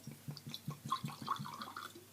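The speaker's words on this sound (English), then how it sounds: "pour a little glass" Golden amber Ron De Jeremy rum poured from a bottle into a small glass, a brief, soft, gurgling trickle with rhythmic glugs, close and quiet.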